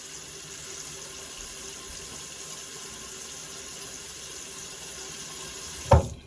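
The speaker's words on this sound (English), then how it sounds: "give my face a little wash." Tap water runs steadily into a bathroom sink during a face wash, a soft continuous hiss close by, ending with a brief sharp splash or clunk near the end.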